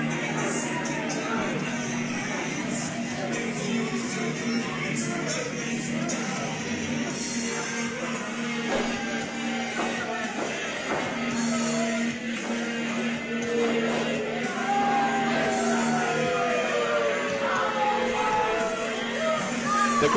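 A wrestling crowd at an independent show murmurs and yells in scattered bursts, a steady hum of reactions that rises toward the end, with a commentator talking over it.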